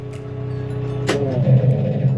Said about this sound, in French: Frein à main.